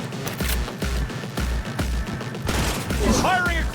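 Close-range gunfire in Cyberpunk 2077, rapid repeated shots in steady bursts, loud and near, with game voices and effects layered over the firing toward the end.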